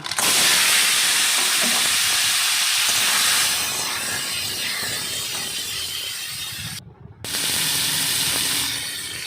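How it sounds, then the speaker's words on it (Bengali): Crab pieces fry in hot oil in a kadai, a loud steady sizzle and hiss that dips partway and returns strongly after a brief near-silent gap. "এখন কাঁকড়াটা ভেজে নেব"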